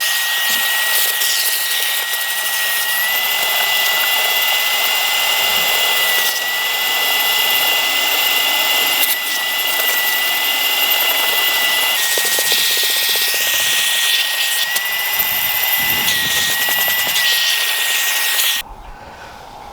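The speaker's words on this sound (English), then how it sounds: "try and get this part of the cab hoovered out and dust free" A vacuum cleaner hoovers the floor of a vehicle cab, giving a loud, steady airy whine with a constant high tone that runs for nearly twenty seconds before suddenly dropping off at the end.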